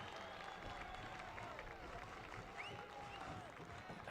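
A baseball crowd cheering and roaring steadily after a strike call during a championship finals game, a dense continuous wash of voices and scattered clapping heard from a distance in a ballpark.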